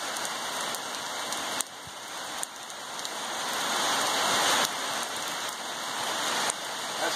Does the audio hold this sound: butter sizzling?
no